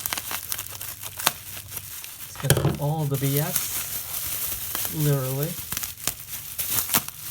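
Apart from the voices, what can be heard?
unwrapping a new iPhone 5 from layers of plastic wrap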